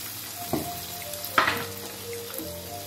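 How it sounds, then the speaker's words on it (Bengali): Mustard oil in a pan on the stove crackles and spits in short bursts, with two sharper pops standing out against a quieter background of light sizzling. "এটা সরষের তেল দিয়ে দিলাম।"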